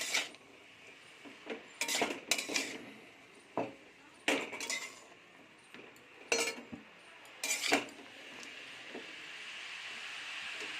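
Bottle gourd and shrimp are stirred in a pan with salt and turmeric, the spoon clinking and scraping in irregular bursts over a faint background hiss.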